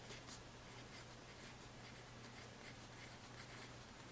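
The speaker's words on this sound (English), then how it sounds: "I'm going to just write down all of my categories" A pen scratches on paper as budget categories are written out, a quiet, close, continuous scribbling with small strokes and pauses, with no talking.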